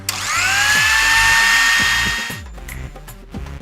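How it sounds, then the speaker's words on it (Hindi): A kitchen grinder whirs loudly for about two seconds with a rising whine, then cuts off, leaving scattered clatter and rattling sounds. "लो ग्राइंडर की आवाज सुनो।"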